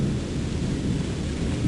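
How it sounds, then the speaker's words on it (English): Low, continuous thunder rumbles through a summer storm in July, a dense and steady roll with light rain noise, fairly distant and without any talking. "The storm's moved in."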